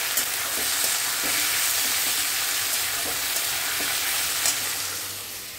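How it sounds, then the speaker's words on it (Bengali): Sliced ivy gourd (kundri) frying in oil in a pan, a continuous close sizzle with a few stirring scrapes, steady and then fading slightly at the end. "এদিকে দেখো কুঁদরি ভাজা হচ্ছে।"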